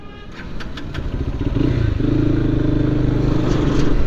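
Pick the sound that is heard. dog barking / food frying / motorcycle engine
motorcycle engine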